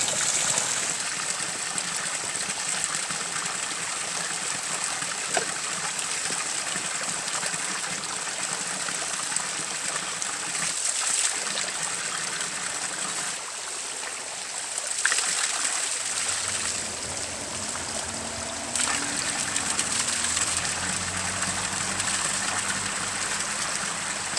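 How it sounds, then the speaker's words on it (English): Mountain spring water gushes and trickles steadily from the mountainside, splashing as it pours into a bottle, loud and continuous, with outdoor ambience behind it. "Comes right out of the side of the mountain here, and it's clear, pure water."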